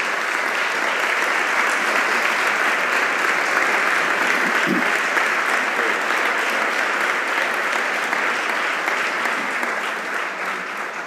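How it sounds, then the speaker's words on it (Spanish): A festival audience in Málaga gives a sustained, loud burst of welcoming applause for two writers, Richard Ford and Juan Ga., dense steady clapping from a large crowd that continues without pause throughout. "les pido un fuerte aplauso de bienvenida a 2 de los más grandes"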